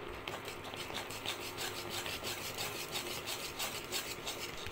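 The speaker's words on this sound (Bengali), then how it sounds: "একে একে অল্প অল্প চালের গুঁড়ো দিয়ে আর হাতা দিয়ে নাড়িয়ে।" Rice flour dough for bhapa pitha being stirred and mixed with a ladle, making a steady, quiet rhythmic rubbing and scraping sound close by.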